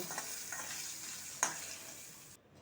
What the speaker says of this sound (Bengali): আলুগুলোকে ভেজে নেব হলুদ দিলাম নুন দিলাম দিয়ে আলুগুলোকে ভেজে